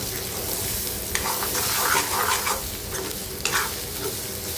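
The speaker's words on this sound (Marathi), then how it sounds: "आता हे व्यवस्थित आपल्याला भाजून घ्यायचं आहे तेलामध्ये" Egg curry masala sizzles in hot oil while being stirred in a pan, a steady loud frying hiss broken by a few scraping strokes of the spoon, with no voices.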